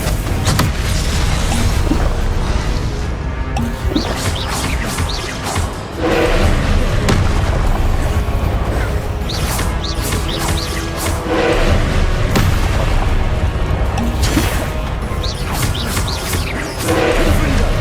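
Confringo fire-spell blasts go off again and again during a Hogwarts Legacy duel: loud, repeated booming thumps and crashes over a busy, constant wash of combat noise.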